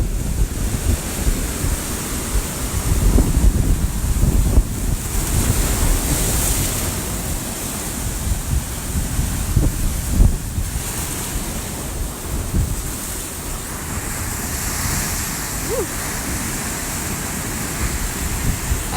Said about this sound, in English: You get that really big spray when some of the water is coming back out to sea, back over the rocks, and then you've got a swell coming in, and they collide